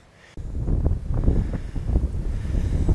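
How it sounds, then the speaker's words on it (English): Wind buffeting the microphone on a countryside walk in North Yorkshire near Wharram Percy deserted medieval village, a sudden loud rumbling gust starting after a quiet moment and continuing as steady roaring blasts, with no talking. "trying to keep out the wind as much as we can"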